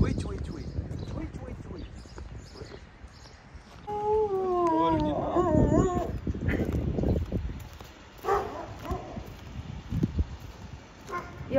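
A dog in a village in New York state gives a brief wavering howl with a few barks, heard over rustling and nearby people talking.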